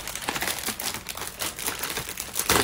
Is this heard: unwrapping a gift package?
yes